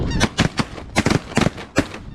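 Shotguns fire in a rapid volley of five or six loud, sharp blasts at geese during a foggy goose hunt, close and echoing, with goose honks mixed in.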